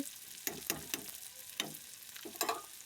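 Fat is stirred and fried in a pan while khichuri is prepared. A few sharp spatula scrapes and knocks sound over a soft, fairly quiet sizzle.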